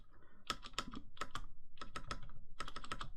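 Keys clacking on a mechanical keyboard with tuned, clipped and band-aid modded stabilizers, including the spacebar: a close, crisp run of taps in several quick bursts with short pauses between them.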